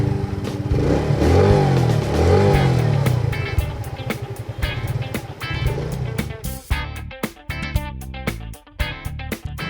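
A Suzuki Smash 115 underbone motorcycle revs up close, its engine rising and falling in loud surges before breaking into choppy, sputtering bursts, with no talking.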